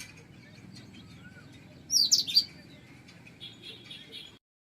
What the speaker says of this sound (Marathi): अशा बऱ्याचशा चिमण्या येत असतात इथे